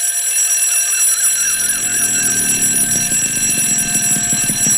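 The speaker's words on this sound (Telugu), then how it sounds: "ఊరందరినీ లేపడం కోసం అలారం పెట్టిందా?" A home alarm clock rings at night in a repeating, warbling electronic pattern, loud and close, continuing steadily alone without any talk.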